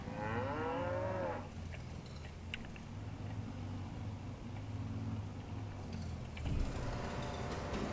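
Cattle moo in the video game Farming Simulator 25, a long, deep, wavering moo up front, then a low droning hum with small clicks, and a short second call near the end, moderately quiet and with no talk.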